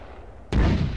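A single loud, close artillery boom in an Arma 3 firebase fire mission lands suddenly halfway through, after a quiet lead-in, and its heavy low rumble carries to the end.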